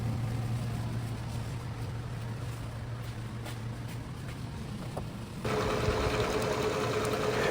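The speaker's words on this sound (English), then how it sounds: "Now we'll be making this part in our Bridgeport vertical milling machine using a 1/2 inch 4-flute end mill." A Bridgeport vertical milling machine fitted with a 1/2-inch 4-flute end mill hums steadily at moderate level. About two-thirds of the way through, a louder, rougher grinding layer comes in.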